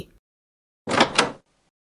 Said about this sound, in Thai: นายถมเดินมาเปิดประตู